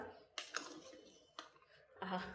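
Cooked sambar rice being stirred in a pressure cooker, with a few scraping clinks of a spoon against the metal pot at irregular intervals, fairly quiet, and a soft voice briefly audible.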